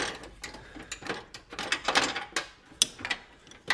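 A wrench turning a nut off the headlight motor of a 1998-2002 Pontiac Trans Am F-body, with a series of quiet, close metallic clicks, scrapes and rattles in short uneven bursts and no talking.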